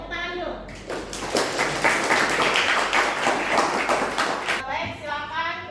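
Classroom students applauding together after a teacher's prompt, a dense burst of many hands clapping that fills most of the clip, with a teacher's voice speaking briefly before and after.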